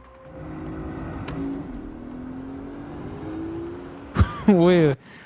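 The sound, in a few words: Porsche SUV engine in Resident Evil Requiem trailer, video game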